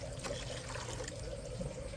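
Second coconut milk poured into a pot of jaggery and cooked ada for Kerala ada pradhaman, a steady continuous liquid pour and trickle, close up with no talk.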